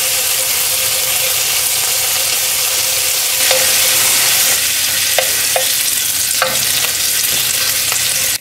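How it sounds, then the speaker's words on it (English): Hedgehog mushrooms, both terracotta and wood hedgehog types, sizzle and crackle steadily in a hot frying pan, loud and close, with a few sharp stir clicks partway through and no talking. "let's fry that bit up"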